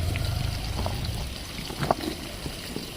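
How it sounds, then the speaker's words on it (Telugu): Tamarind juice poured into a pot of dal, a short close liquid pour with a splash partway through, brief and alone without talk. "చింతపండు పులుసు పోస్తుంది"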